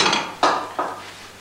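Gilded Empire-style dishes clink and clatter nearby, with three short bright knocks of china set down, fading quickly between strikes, no voices.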